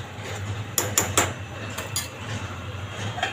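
A pot of brinjal and potato curry being stirred, with a few close metallic clinks and scrapes of a spoon against the pot in two short bursts over a low steady hum.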